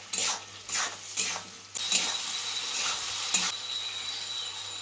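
Chopped tomato and slit green chillies dropped into hot oil with fried potatoes in a frying pan, bursting into a loud, steady sizzle after a few brief clinks and stirs, with no talking.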